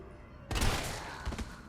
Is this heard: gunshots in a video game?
yes